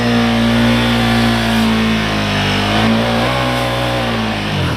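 A big motorcycle engine revs hard and steady during a rear-wheel-spin burnout, a loud, close, sustained growl whose pitch wavers and then drops near the end.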